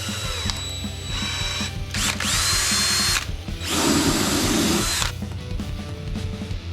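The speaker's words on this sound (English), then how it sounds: "I always practice whenever I'm drilling something" A power drill bores into a wooden practice block in several sustained bursts of high whining, separated by brief pauses, loud and close against low background noise.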